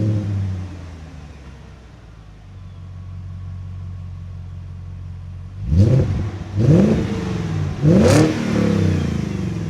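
A manual-swapped BMW E38 740i V8 idles with a low, steady burble, then three sharp revs through the exhaust climb and fall back in quick succession, loud and close.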